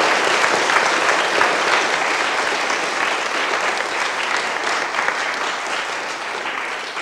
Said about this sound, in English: how about a round of applause for the entrepreneurs in Norfolk County?